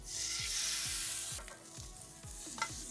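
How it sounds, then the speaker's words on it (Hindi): Paneer steak sizzling in a pan: a soft, steady frying hiss with faint crackles, fading and pulsing slightly as it cooks. "अब हम अपना पनीर स्टेक कुक करेंगे"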